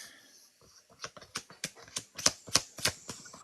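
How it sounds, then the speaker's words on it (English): A deck of tarot cards is shuffled in a series of quick riffling bursts, speeding up into sharp, closely spaced flutters and snaps heard up close, with no talking over them. "Let me shuffle again."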